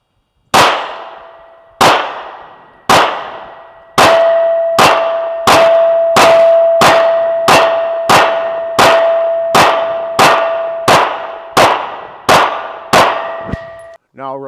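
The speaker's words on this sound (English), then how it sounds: "Let's get some rounds on him, let you hear how that thing really rings." Gunshots ring a steel harmonic shooting target about fourteen times in steady succession. Each impact is a sharp clang followed by a long, sustained metallic tone, loud and close, with a brief pause after the first few shots.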